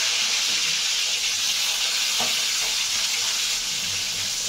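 Eggplant slices fry in hot oil with a loud, steady, close sizzle and hiss, joined by a few faint clinks from a utensil.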